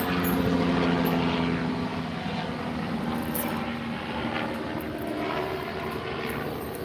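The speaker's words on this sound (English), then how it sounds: "I got a helicopter and a bulldozer flying over right now" A helicopter flies overhead with a steady rotor drone and engine hum, loud and continuous, fading slightly as it passes, with no talking.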